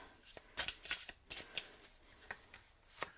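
Marigold Tarot cards shuffled by hand close by, a series of crisp riffling bursts and card slaps in an uneven rhythm, soft overall and without talking.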